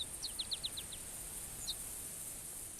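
A faint, distant bird call in a hunting video game, a quick series of five or six thin chirps followed by one more, over a steady hiss of outdoor ambience.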